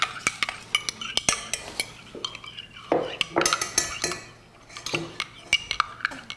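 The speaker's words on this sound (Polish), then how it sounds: "I mieszamy całość." A spoon stirs a kuzu and plum drink in a cup, giving rapid close metallic clinks and scrapes against the sides in uneven bursts, with a short pause near the middle.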